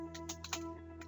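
Keys tapped on a computer keyboard while a command is entered in a Linux terminal, a few separate clicks in an irregular rhythm over a steady hum, close and fairly quiet.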